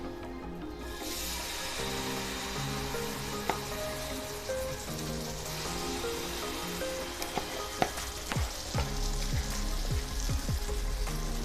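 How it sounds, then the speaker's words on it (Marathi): Batter sizzles as it spreads on a buttered grill pan heated over a gas flame, a steady soft frying hiss with occasional light taps and pops and faint background tones, no talking. "इथे मी एक ग्रिल पॅन गॅसवरती गरम करायला ठेवून घेतलेला आहे त्याला आपण बटर लावून घेऊया आणि यावरती आपण मिक्स केलेलं बॅटर काढून घेऊया"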